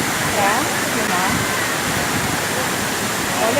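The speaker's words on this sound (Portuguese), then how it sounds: "Realmente eu estou aqui na cachoeira, como eu falei." A full waterfall in Bonito, Pernambuco, roars as a dense, steady broadband rush of falling water, loud and continuous throughout with no pauses.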